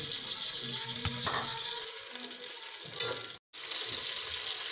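Chopped onions go into hot oil in a pot for an egg and brain masala curry, giving a steady broadband sizzle that dips briefly near the end, with faint clatter and no talking.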